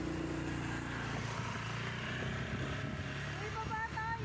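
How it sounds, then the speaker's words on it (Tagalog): A low, steady boat motor drone with a rumbling texture continues throughout, faint and somewhat distant, with a few voices heard faintly underneath. "Motor."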